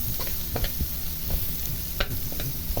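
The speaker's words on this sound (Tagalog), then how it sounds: "Pwede na rin natin actually ilagay ang ating onions. Doesn't matter. Ayan. Haluin lang natin." Onions and garlic frying in a pan under a continuous crackling sizzle, stirred with repeated light scrapes and taps of a utensil, close and quiet, with no talking.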